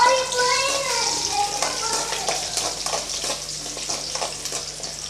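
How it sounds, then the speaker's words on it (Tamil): Small onions sizzle and fry in hot oil in a pan for a village-style dried anchovy curry, a steady crackling hiss running under someone talking. "அடுத்தது ஒரு பதினஞ்சுலேருந்து இருபது பல் சின்ன வெங்காயம் அதையும் சேர்த்துக்கலாம் நல்லா வதக்கி விட்டுறலாம்"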